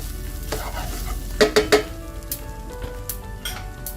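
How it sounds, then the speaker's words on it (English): Shrimp and broccoli egg fried rice sizzles in a hot pan as a utensil stirs it, with a few quick clinks and scrapes against the pan over a continuous close frying hiss, no talk. "So give it a good stir, turn the heat off."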